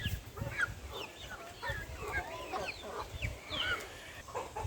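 Light Brahma chickens cluck and chirp steadily at a farm, with several birds calling over one another at close to moderate distance against low ambient noise.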